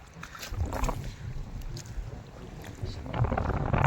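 Small wooden boat moving on open water beside a fish-filled net, with wind buffeting the microphone and a steady wash of water throughout, voices talking intermittently over it.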